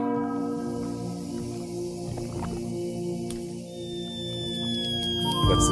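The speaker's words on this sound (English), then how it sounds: "That's the sound of the flower wilting on the toilet." A comedic sound effect for a flower wilting on a toilet: a droning, creaky tone with a falling whistle-like slide near the end, heard alone without speech.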